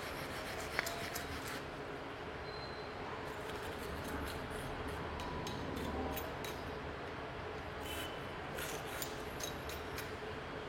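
Brush scrubbing residue off the parts of a home mini oil extractor, a steady close rasping rub with brief sharper strokes, no voice over it.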